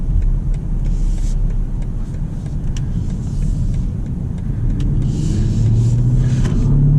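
A 2023 BMW X7 M60i drives on back roads, heard as a steady low cabin rumble of engine and tyres. Near the end a rising engine tone builds as the SUV accelerates.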